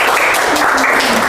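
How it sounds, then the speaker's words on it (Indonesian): A short, loud burst of applause from students in a university class, a brief dense patter of many hands. "Tepuk tangan untuk Syifa"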